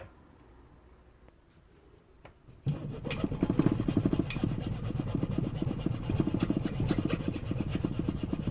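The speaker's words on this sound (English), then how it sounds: "I might just try a little something like just a little hacksaw." A small hacksaw cuts through plastic on a CB250N motorcycle project: after a quiet start, a steady, loud, rapid back-and-forth rasping of strokes runs on without talk.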